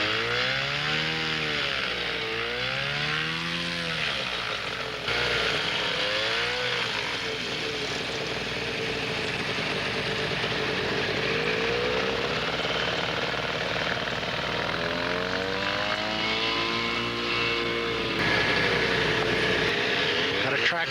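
Two-cylinder engine of a Flightstar ultralight aircraft starting and running, a loud, buzzy, chainsaw-like drone with revs rising and falling, heard close up outdoors with wind noise and some talk underneath.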